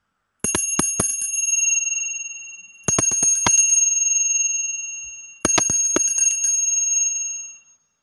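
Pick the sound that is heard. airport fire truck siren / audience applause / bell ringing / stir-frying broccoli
bell ringing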